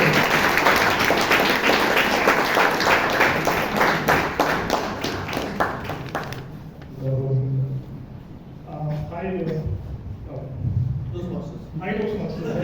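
Applause from a Toastmasters meeting audience in Bangalore, dense clapping for several seconds that thins out as a voice begins speaking over the remaining scattered claps.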